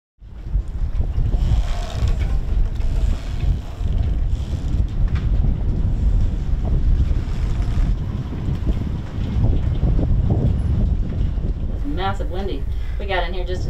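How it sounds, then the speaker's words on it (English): Strong wind buffets a moored sailboat in Cartagena, a loud continuous roar and rumble with rigging and hull noises, and a brief voice near the end. "Massive windy."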